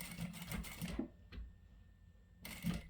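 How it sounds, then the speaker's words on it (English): A sewing machine back-stitching the corner of a vinyl wallet, a quiet rapid mechanical chatter that pauses for about a second and then resumes. "And when you get to the end, just back stitch, and then we can turn the corner and I'll back stitch again,"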